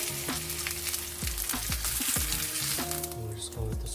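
Dry-aged steak sears its edges in a hot pan, giving a loud steady sizzle and crackle with frequent spits and pops throughout, close and continuous, with no talking.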